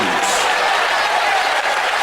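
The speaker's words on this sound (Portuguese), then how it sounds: "Eu vou pedir palmas misturado com glória a Deus." A church congregation claps loudly and continuously during a sermon, with a dense, even wash of many hands filling the room.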